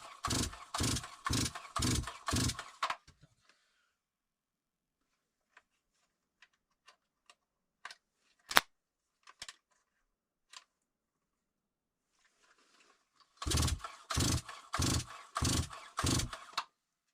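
A ZimAni MS 260 chainsaw is cranked with the choke on and the decompression valve pressed. Two bursts of rapid, rhythmic starter-cord pulls open and close the clip, separated by a long quiet stretch of scattered clicks and ticks.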